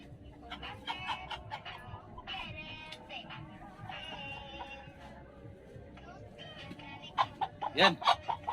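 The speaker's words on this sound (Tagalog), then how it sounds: "Ito mga kabro ang manok na kunin natin ng balahibo." Chickens cluck and squawk close by in a rural setting, with soft scattered clucks building into a louder burst of calls near the end, while people talk in the background.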